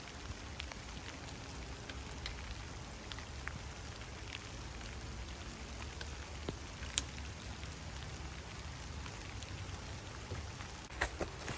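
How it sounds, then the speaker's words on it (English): Steady rain falls throughout, a dense even patter with occasional sharper drops on a surface, moderately loud and close, with no voices. "It's raining pretty good."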